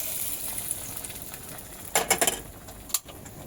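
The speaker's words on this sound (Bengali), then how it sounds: "এইবারে এই ঝোলের মধ্যে ভাজা আমগুলো ঢেলে দেব।" Fried mango pieces tipped into a simmering Bengali katla fish curry with potato and drumstick, a soft background bubbling broken by a few sharp splashy sizzles and clinks of a utensil against the pan.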